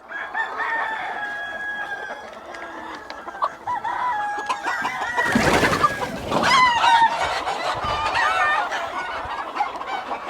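Free-range desi chickens cluck and call on a large open poultry farm, a dense busy chorus of hens with a rooster crowing partway through, loud and close with several birds overlapping.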